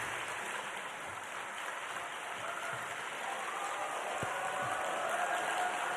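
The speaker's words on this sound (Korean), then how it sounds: "박수로 맞아주시기 바랍니다." A church congregation at a Sunday afternoon worship service applauds to welcome a visiting pastor; steady, even clapping fills the hall as a soft, continuous roar.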